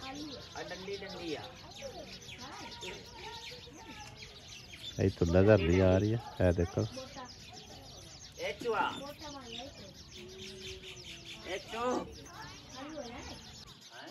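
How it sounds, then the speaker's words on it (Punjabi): Sparrows chirp and twitter in bursts in the evening, with a louder flurry of calls midway, while a person talks over them. "ਸ਼ਾਮ ਟਾਈਮ ਇਹਦੇ ਵਿੱਚ ਨਾ ਚਿੜੀਆਂ ਬਹੁਤ ਜ਼ਿਆਦਾ ਆ ਜਾਂਦੀਆਂ ਨੇ ਔਰ ਬੜਾ ਪਿਆਰਾ ਬੋਲਦੀਆਂ ਨੇ"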